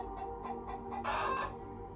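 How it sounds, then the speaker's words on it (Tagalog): Chickens in a backyard coop cluck in a quick series of short calls, then one louder squawk rises briefly, heard fairly faint from a distance. "biglang naghiyawan ang mga manok sa kulungan ng mga ito sa likuran ng bahay"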